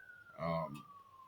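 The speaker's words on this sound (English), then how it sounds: "And sorry for the sirens in the background." A police siren wails in the background, a thin steady tone held faint and distant, while a person speaks briefly over it in the foreground.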